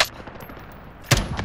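Two sharp rifle shots in a shooter video game, one at the very start and a louder, nearer crack about a second later, with faint game ambience between them.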